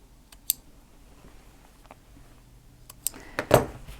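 Scissors snip through sewn silk bra pieces, a few sparse close clicks and a louder crisp cut near the end, with no one talking.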